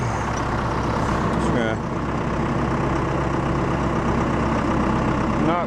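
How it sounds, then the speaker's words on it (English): A backhoe engine on a farm works hard as the bucket presses down to dig through hard pan, giving a continuous loud, low diesel drone with no clear pauses. "We've got to use the backhoe for down pressure."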